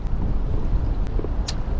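Strong, gusty wind buffets the microphone on the water during a kayaking outing, a steady low roar with rough bursts and no talk.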